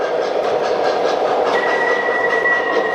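Model trains running on track, a steady close rumble and clatter of wheels with a sustained whistle-like tone entering partway through, continuous and fairly loud, no talking.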